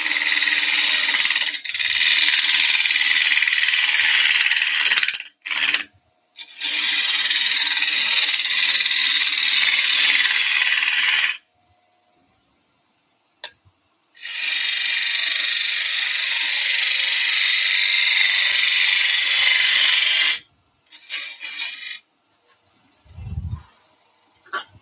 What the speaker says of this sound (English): Lay speed up a little bit. Let's start with a little 1/4 inch gouge.